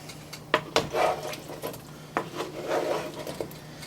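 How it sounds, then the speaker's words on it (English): Potatoes tumble into a full pot of hearty Irish beef stew, giving a run of clattering knocks, scrapes and soft thuds against the pot, near and moderately loud. "Now's a good time to add the potatoes."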